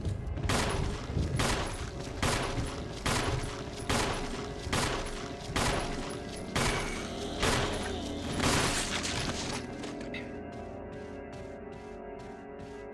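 Gunshots ring out in the 2002 Resident Evil game, about a dozen loud, evenly spaced blasts with short echoing tails, followed by quieter rapid clicking mechanical sounds.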